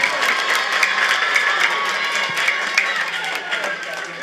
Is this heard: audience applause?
yes